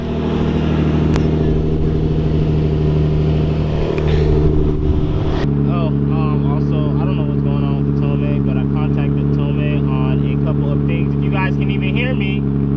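A Nissan 350Z engine cold-starts and idles with a steady, loud, deep exhaust drone, then settles into a rough idle with small rises, heard close throughout.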